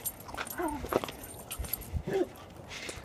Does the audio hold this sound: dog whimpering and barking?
yes